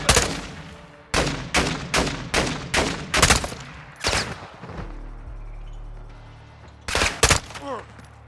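Call of Duty Modern Warfare 2 gunfire: a rapid, evenly spaced series of loud single shots, then a pause with a low hum, and two more close shots near the end.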